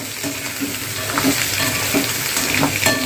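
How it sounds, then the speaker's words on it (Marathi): Boiled potatoes fry in hot oil, giving a loud, steady close-up sizzle with faint bubbling pops and the occasional light scrape of stirring, heard alone without any voices. "असं तेलामध्ये चांगले फ्राय करून घ्या चांगला असा कलर येईपर्यंत आपल्याला त्यांना चांगलं फ्राय करायचं आहे"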